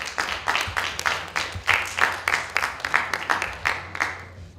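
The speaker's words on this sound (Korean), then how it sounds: "큰 박수로 맞이해 주시기 바랍니다." A seminar audience welcomes a lecturer on the Fourth Industrial Revolution and financial security with a sparse round of clapping, the individual claps distinct and rhythmic and fairly close, fading out at the end.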